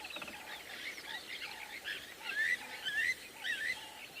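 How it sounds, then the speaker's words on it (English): Wild birds call in the bush at sunset, including woodland kingfishers among other birdlife, with repeated chirps and trilling whistles at moderate distance, alone without talk. "You can hear a lot of birds at the moment, especially woodland kingfishers."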